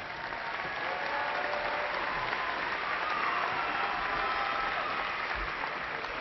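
Steady, dense applause from a large audience at a university fall commencement ceremony, an even wash of many hands clapping with no break, somewhat distant and muffled.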